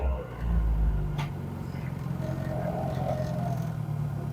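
A Morris car engine, recently fixed after a bad fuel pump, idles slightly high with a steady low rumble close by, holding even throughout with a slight swell near the start.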